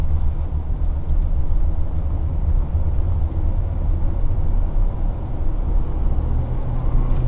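A 2013 Ford Explorer Limited SE conversion van cruises down the road, giving a steady low rumble of engine and tyre noise throughout with no talking.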